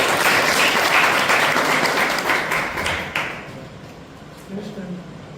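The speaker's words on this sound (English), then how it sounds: "So please give her a huge round of applause." A Toastmasters meeting audience gives a round of applause, with loud, dense clapping that slowly thins and fades, and a voice emerging faintly near the end.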